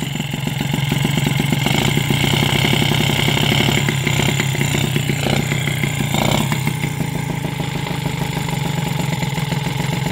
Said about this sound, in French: Mon ralenti est bas, ce qui fait que ça tremblote encore plus.